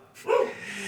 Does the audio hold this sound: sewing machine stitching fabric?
no